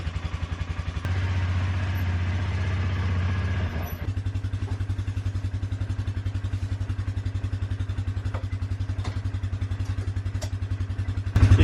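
An ATV engine runs steadily throughout a ride, a loud, close low drone with a rapid, even firing pulse, shifting in tone about a third of the way in as the machine changes pace, with faint clatter from the vehicle.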